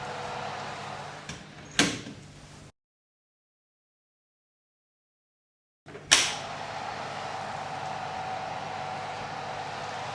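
An oven door thuds shut after soda bread goes back in to bake: a clear, close clunk followed by silence, then a second sharp knock with background hiss.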